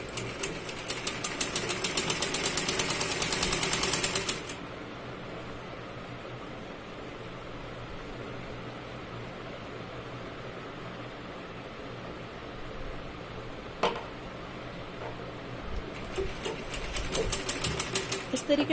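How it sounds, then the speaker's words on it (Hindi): A sewing machine stitches a button-placket blouse in two rapid, rhythmic runs, one at the start and one at the end, with a quiet pause between them. "सीधे कपड़े को रख करके हम सिलाई लगाएंगे।"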